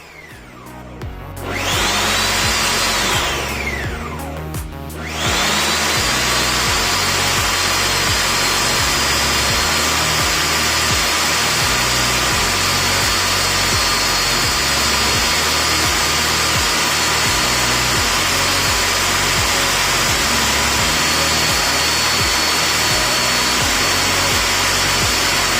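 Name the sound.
Ninja Foodi Power Blender running Auto IQ program, strawberry smoothie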